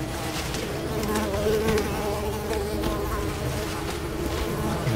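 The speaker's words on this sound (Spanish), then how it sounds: "Es que los mosquitos no me dejan atarlos" Buzzing mosquitoes in the video game Unravel make a steady, dense whine that hums continuously without pause, moderately loud and alone with no talk over it.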